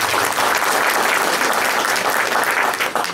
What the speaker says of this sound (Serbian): I veliki aplauz za one